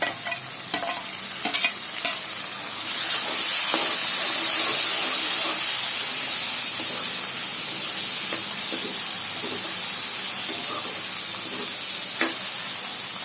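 Chopped tomato and spicy green chili sautéing in a hot pan with leftover vegetables, a steady loud sizzle and hiss after a few stirring clatters at the start.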